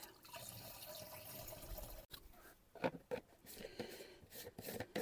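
About one and a half litres of whey poured into a sprayer for treating cucumbers in the garden. Faint liquid splashing and gurgling runs unevenly, with a few louder glugs near the end.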